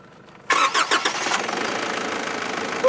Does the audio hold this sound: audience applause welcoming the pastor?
no